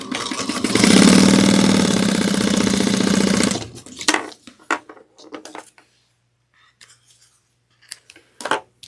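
A sewing machine runs a 3/8-inch seam in one loud, steady rapid stitching burst of about three seconds, then stops, followed by scattered clicks and rustles of fabric handling.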